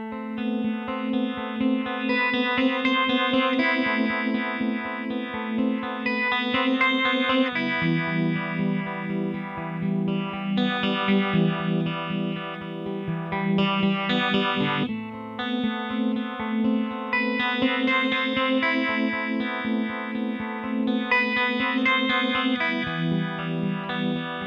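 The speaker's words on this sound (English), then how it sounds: "the speed of the phaser effect follows the volume envelope on the input of the phaser" An Empress Effects Phaser pedal in auto mode sweeps over a sustained, distorted electric guitar chord progression, the phasing speed following the playing dynamics, loud and continuous with no talking.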